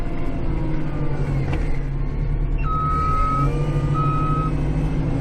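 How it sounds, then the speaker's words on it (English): A snow-clearing machine's reverse alarm sounds two long, steady beeps over the loud rumble of its idling heavy engine. "I usually turns on my reverse alarm down by the road"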